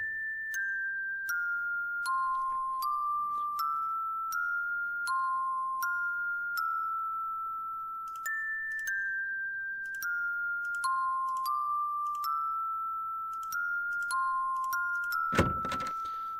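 A bell puzzle in Quest for Glory IV: Shadows of Darkness, a sequence of clear ringing bell tones stepping up and down in pitch, each sustained before the next, ending with a short noisy thump.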